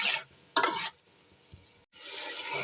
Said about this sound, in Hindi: मसाले की अच्छी तरह भुनाई कर लेनी है।